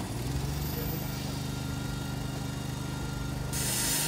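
A petrol concrete breaker hammer's engine runs with a steady low mechanical drone throughout, then a louder burst of broadband noise joins near the end as it revs or the hammer engages.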